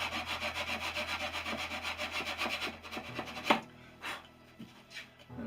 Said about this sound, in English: Just give that a little sand just to get any slight steps out.